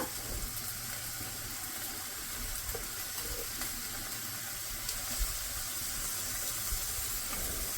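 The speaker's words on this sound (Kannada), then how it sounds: "ನೋಡಿ ಮಿಕ್ಸ್ ಮಾಡಿಬಿಡ್ತಾ ಇದ್ದೀನಿ." Potato palya being stirred in a pan, a steady soft sizzle and scraping hiss that runs unbroken throughout, with no talking.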